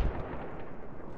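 Mortar rounds land in the military shooter game Project Reality, giving a heavy, rumbling explosion with a low boom that rolls on and fades over about a second.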